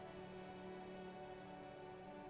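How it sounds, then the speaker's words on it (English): Rain in the video game Disco Elysium, a soft and steady hiss of rainfall on surfaces, faint and even throughout and joined by a low sustained hum, with no voices. "A silvery curtain of rain over the houses"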